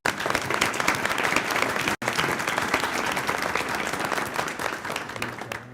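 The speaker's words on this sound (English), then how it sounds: "So please give a round of applause to these wonderful people" A crowd applauds at an arts education award ceremony, with dense, sustained clapping that fills the whole stretch and is broken only by a brief cut partway through.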